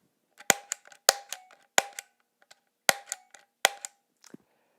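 Sharp mechanical clicks of a guitar pedal footswitch snapping in a loose, irregular sequence of about six, close and dry with nothing else around them.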